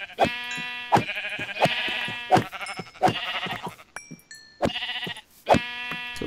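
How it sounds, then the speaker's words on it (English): Repeated sheep bleats from a Minecraft video game, about seven loud, evenly spaced calls with short pauses, plus a brief high chime partway through; no talking. "Come here, sheepies."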